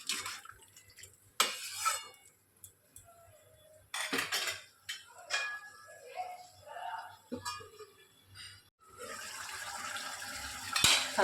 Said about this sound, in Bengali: সব কিছুকে ভালো করে মিশিয়ে নিচ্ছি।